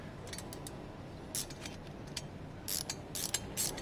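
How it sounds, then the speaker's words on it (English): A ratchet tightening a stud nut on a Honda CB250 motorcycle engine during valve adjustment, heard as a few quiet, close clicking pawl bursts over a soft background hiss. "And then you ratchet the bottom one."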